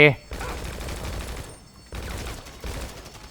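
Bursts of GTA video game gunfire and booming grenade blasts rumble in quick succession at a police station, with a short rising tone at the very start.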